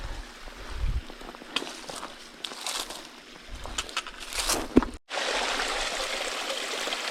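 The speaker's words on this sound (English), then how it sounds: "I'm about to go stick my bottle up under that waterfall right there and get me" A small waterfall on the Pinhoti Trail splashes and trickles steadily in the woods, a close, continuous rush of falling water with occasional birdsong and faint rustling, growing fuller and louder near the end.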